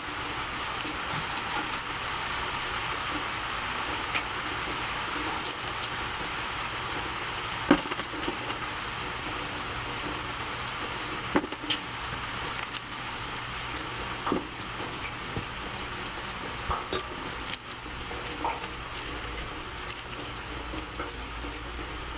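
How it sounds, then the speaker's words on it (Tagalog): Steady, dense rain pours down continuously, a broad hiss with occasional louder drops and taps standing out against the constant wash. "Malakas na naman ang ulan."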